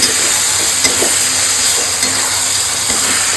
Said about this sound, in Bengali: এবার আমি ভাজা আলুগুলো এর মধ্যে দিয়ে দেবো। ভাজা আলু দিয়ে আমি সুন্দর করে কষাবো।